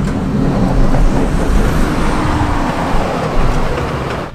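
A 2020 Land Rover Defender grinds off-road through deep ruts with a steady, loud, low engine and drivetrain rumble inside the cabin, without pause.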